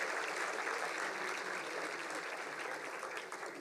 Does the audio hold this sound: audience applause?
yes